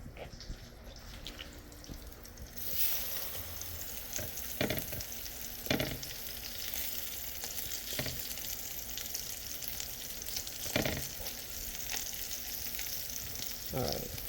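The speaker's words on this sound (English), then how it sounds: "I'm gonna let it cook on one side." A tortilla wrap fries in butter in a hot pan with a steady close sizzle, broken now and then by sharp scrapes and taps of a utensil turning or pressing it.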